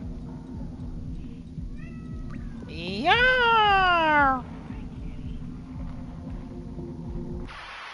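A house cat gives one long, loud, drawn-out meow close by, rising then falling, against a low steady hum. A person speaks briefly around it.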